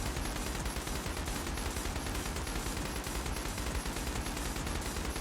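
Video game gunfire with recoil springs fitted: a dense, continuous burst of rapid shots rattles along at a steady rhythm, loud and unbroken, with no voices over it.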